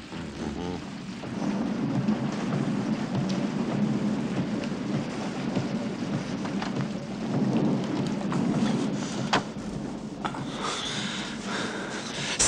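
Heavy rain pours in a dense, steady wash, loud and close, with a rumble of thunder underneath and a few sharper splashes toward the end.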